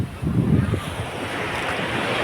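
Sea waves at high tide wash in with a close, rumbling surge and hiss, heavily mixed with wind buffeting the microphone.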